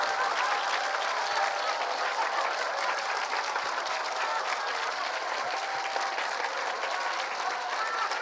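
A church congregation claps and cheers steadily at a revival meeting, a dense, even wall of applause and shouting that holds at full strength throughout, with no pauses.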